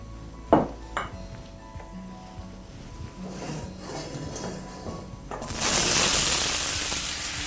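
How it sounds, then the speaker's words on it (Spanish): Zucchini sautéing in a preheated wok with olive oil: a few metallic clinks and knocks of utensils come first, then a loud, steady, hissing sizzle rises near the end, with no talking. "Vamos a saltear primero los zapallos italianos en el wok que ya lo tenemos precalentado, un poco de aceite de oliva"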